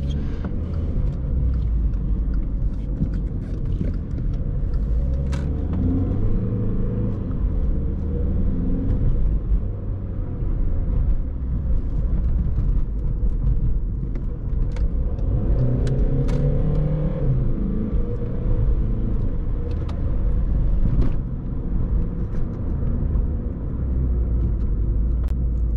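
Steady engine rumble inside a VW Polo V 1.6 TDI 90 HP with 7-speed DSG in heavy city traffic, low and continuous, with the diesel rising and falling as it pulls away and occasional clicks and knocks.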